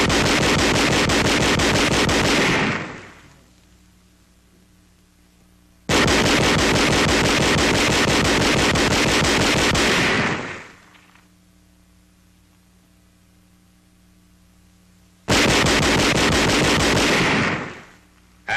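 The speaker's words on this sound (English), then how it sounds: "Employing the captured 20mm gun on 2nd January, enemy targets a half-mile away are brought under indirect fire." A captured 20mm gun fires on enemy targets half a mile away in January 1945, heard as three long, loud, rapid bursts of automatic fire separated by quieter gaps, with harsh, noisy archival-film texture.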